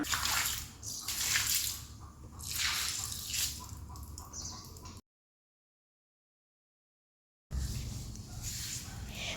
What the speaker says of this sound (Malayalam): ഒരു കപ്പ് വെള്ളത്തിൽ കുറച്ച് ഫ്ലോർ ക്ലീനർ മിക്സ് ചെയ്ത് ഒഴിച്ചാണ് ഇങ്ങനെ ക്ലീൻ ചെയ്യുന്നത്